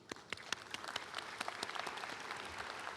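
The audience at a university convocation gives a round of applause, faint and distant. Separate claps are spaced out at first, then quickly thicken into a steady patter of many hands.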